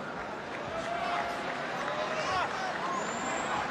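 A sellout arena crowd packed in for a martial arts fight in Manila makes a steady, loud hubbub of babble and murmur. It runs throughout without breaking into separate cheers.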